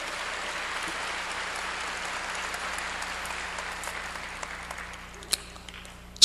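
A church congregation claps during a Korean sermon, a dense, even roar of many hands that slowly thins out and fades, ending with a couple of sharp knocks.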